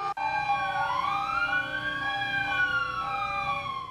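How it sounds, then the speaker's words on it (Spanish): Emergency siren wailing across Mexico City during a citywide earthquake drill, a loud, steady rising and falling tone that carries on without pause and with no voices. "Durante un minuto las sirenas se hicieron sonar."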